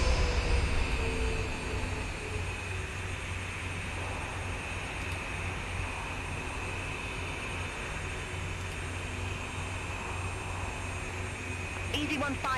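An airliner's jet engines roar in a flight simulator game, a steady, loud whine and rumble that holds throughout at an even level, with a few faint clicks near the end.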